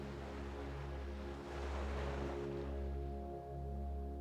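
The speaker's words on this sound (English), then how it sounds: "heard the rolling of the waves not far from your chalet" Gentle ocean waves roll steadily onto a Gili Islands beach a short distance from a seaside chalet, a soft continuous wash of surf swelling and easing every couple of seconds with a faint low hum underneath.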